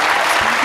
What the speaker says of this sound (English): Big round of applause for Paula.